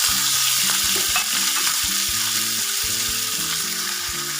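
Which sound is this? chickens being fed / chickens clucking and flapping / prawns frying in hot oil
prawns frying in hot oil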